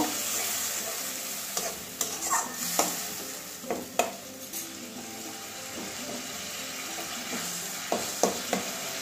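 Spice paste with tomato and added water cooking in a pan, a continuous sizzle with repeated scraping spatula strokes, close and fairly loud, no speech.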